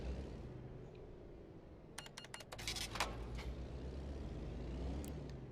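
A truck's parking air brake releases in the video game American Truck Simulator, on a Kenworth W900, with a sharp burst of hissing air, several quick bursts over a steady low engine rumble.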